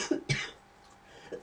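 Two quick, close coughs in a row, followed by a faint third cough shortly after in a quiet room.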